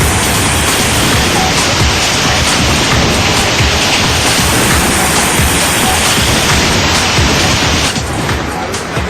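Raging floodwater in Himachal during heavy rain, a loud, dense, unbroken roar of rushing water that fills the whole scene without letup.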